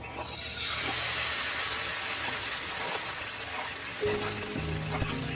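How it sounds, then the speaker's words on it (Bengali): Rice-flour batter for pitha poured into a hot pan makes a sustained, fairly loud sizzling hiss that eases off partway through, followed by a few faint clinks. "গরম কড়াইতে শুনো চুকলি করার জন্য চালের খুঁড়োর গোলা দিলে এমন চুংচাং শব্দ হয়।"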